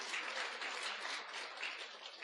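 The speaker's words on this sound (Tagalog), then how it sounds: "Palakpak kina Jesus." A church congregation at an Ilocano-language sermon claps together in a steady, even wash of applause that sounds somewhat distant and subdued.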